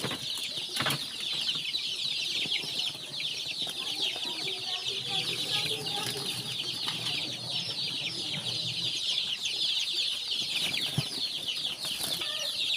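Pet baby chicks in a cage, chirping and peeping busily throughout, with soft rustling and occasional wing flaps close by.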